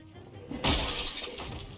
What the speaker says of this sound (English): My newest move is smashing zombies through windows.